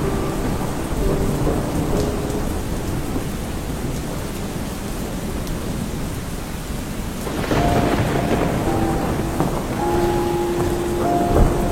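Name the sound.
heavy rain and thunder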